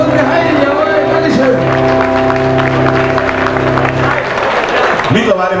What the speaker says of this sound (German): Einen riesen Applaus für die Heidi